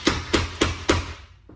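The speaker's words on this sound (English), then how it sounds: "Slide hammer on it" Slide hammer yanking a welded-on pin to pull out a low spot in sheet-metal bodywork: four sharp metallic impacts at a steady, roughly even pace, close and loud, then a faint trailing tap.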